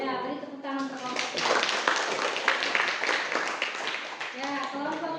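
A classroom of students claps for a presenting group after a chemistry presentation on how petroleum forms, a burst of hand clapping in the middle framed by a teacher's talk at the start and end.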